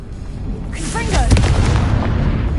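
A Confringo fire spell cast in Hogwarts Legacy, a whooshing crackle rising into a deep rumbling blast that lingers as a low roar, close and loud.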